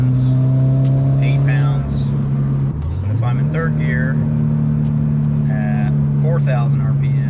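Turbocharged Toyota GT86 accelerating hard under boost, its engine note steady and loud, then dipping and climbing as revs rise, with someone talking over it throughout.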